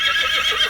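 A European horse for sale whinnies in a short, loud, close neigh with a wavering, high-pitched tone.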